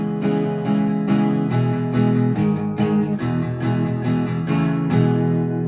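Acoustic guitar in open D tuning playing the second verse, a steady strummed rhythm with ringing open strings, close and moderately loud, no voices.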